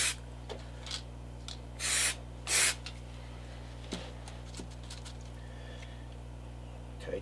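Glue activator is sprayed onto a part in a factory, giving two short hissing puffs under a steady low electrical hum, with faint handling clicks and rubbing around them.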